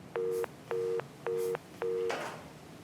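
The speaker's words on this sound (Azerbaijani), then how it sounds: "Üzümə bağladı telefonu" After a phone call is hung up, four identical short electronic beeps repeat at an even pace, clear and moderately loud, with no voices.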